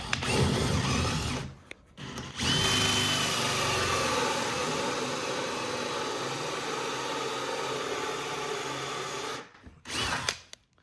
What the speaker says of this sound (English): grab a hole saw and cut out the 40mm waste pipe